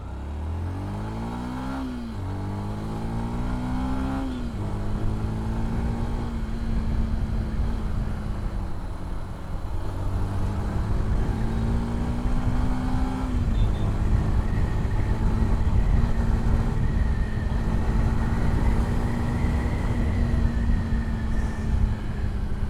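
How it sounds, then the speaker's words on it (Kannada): Yamaha FZ Rave motorcycle ridden in first gear in city traffic, engine revving up and dropping between throttle pulls, then holding a steady drone, loud and close with wind noise throughout. "ಗಾಡಿನ ಟರ್ನ್ ಮಾಡೋಣ, ಹಾಗೆ ಸ್ಪೀಡ್ ಚೆಕ್ ಕೂಡ ಮಾಡೋಣ ಆಯಿತಾ. ಫಸ್ಟ್ ಗೇರಲ್ಲಿದ್ದೀನಿ"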